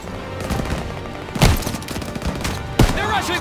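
Gunfire in the World War II shooter Call of Duty WWII, a dense barrage of rapid shots with two sharp, louder blasts standing out, continuous and close, with faint voices mixed underneath.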